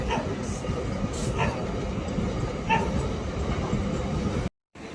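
A train passing a closed railway crossing gate: a steady, loud rumble fills the scene while a dog barks and yips intermittently nearby, and the sound cuts out briefly near the end.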